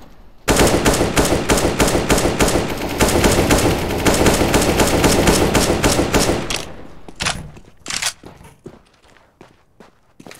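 Rapid sustained gunfire in Counter-Strike: Global Offensive, a dense burst of loud shots lasting several seconds, then scattered single shots and thuds as the firing breaks off.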